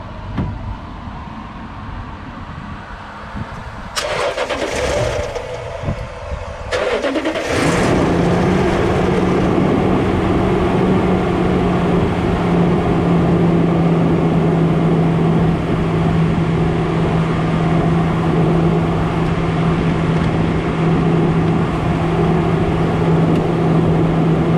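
A 2016 diesel car engine cranks in a few short bursts, then catches and settles into a loud, steady idle that drones on without a break.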